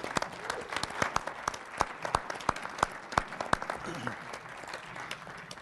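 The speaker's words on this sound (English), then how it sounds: "Let's give him a round of applause." A crowd applauds with sharp, scattered claps, steady and lively throughout, with a voice faintly heard beneath.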